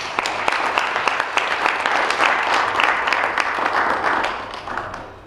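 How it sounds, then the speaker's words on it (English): Audience applause at a university chapter conference, a steady burst of many hands clapping throughout, moderately loud and tapering slightly at the end. "I would like just to request that we clap for all our participants of the day"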